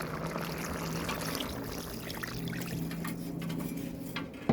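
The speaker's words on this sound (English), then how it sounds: "so I dash some more coconut milk" Coconut milk poured into a pot of Jamaican stew peas with pigtail, a steady soft trickling and splashing stream that runs for several seconds over a low kitchen hum, with no talking.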